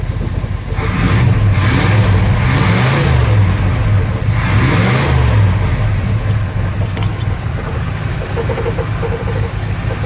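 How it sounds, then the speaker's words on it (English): An old Holden HZ car engine revs up and settles repeatedly, with a rough, rattling exhaust edge to the close, loud running. "Bit of exhaust rattle."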